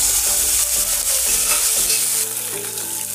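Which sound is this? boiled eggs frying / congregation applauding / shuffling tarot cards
boiled eggs frying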